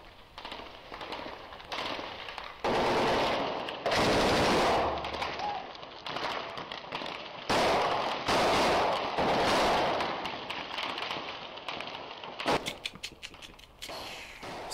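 Sustained film gunfire with dense, rapid bursts of sharp shots and snapping cracks, loud and near, continuing almost without pause with short gaps between volleys.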